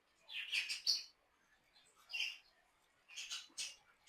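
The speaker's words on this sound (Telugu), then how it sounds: "ఇది వచ్చేసి మన టేమ్ బర్డ్." A tame pet bird chirps close by in a quiet room, giving three short bursts of high, bright tweets separated by brief pauses.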